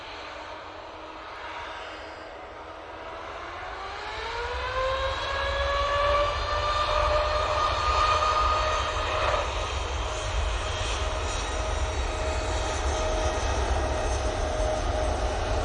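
An airliner arriving at Manchester Airport from Amsterdam Schiphol passes close with a loud engine roar, a rising whine sweeping upward through clear tones before settling into a sustained, steady drone.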